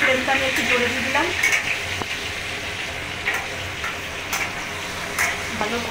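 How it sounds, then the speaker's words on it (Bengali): Pointed gourd and potato sizzle loudly in hot oil over a raised gas flame, with repeated stirring scrapes and light metallic taps against the pan at close range. "পটল আর আলুটাকে লাল লাল করে ভেজে নেব আমি"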